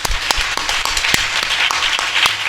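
Audience at a church service clapping in a steady rhythm, sharp beats about three to four per second under a broad wash of hands, loud and close.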